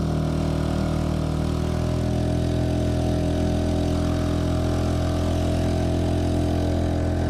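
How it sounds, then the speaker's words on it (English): A Honda 2.3 HP outboard motor runs at full throttle on a Pelican Bass Raider boat, giving a loud, steady, unbroken engine drone with no talking. "now let's crank it up to full throttle"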